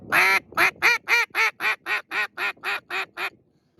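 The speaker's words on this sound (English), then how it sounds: "it changes the sound of the call, so I can actually get a couple of different calls" A duck call blown with its hole pointed toward the open side of the hand, in a rapid series of about twelve loud, nasal quacks, evenly spaced and close up, with no other sound.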